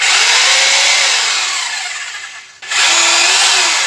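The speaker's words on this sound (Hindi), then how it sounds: "ये ड्रिल मशीन रखा। पहले हम इसको टेस्ट कर लीजिए, देखिए आप फ्री में चला के" A Foster FHD 2-26 DRE electric drill runs free with no load, a loud close whine that slowly drops in pitch, cuts out briefly, then spins back up to full speed.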